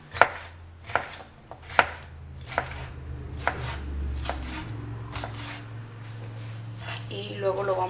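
Knife slicing seeded peppers lengthwise into thin strips on a board: a few sharp, distinct chops in an uneven rhythm, then softer cutting and shuffling, with a person speaking throughout.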